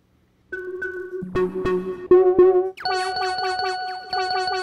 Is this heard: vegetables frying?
no